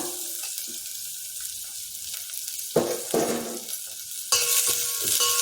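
Chopped carrots and beans for khichdi sizzle in a pan while being stirred, a steady close frying hiss broken by scraping bursts of the spoon.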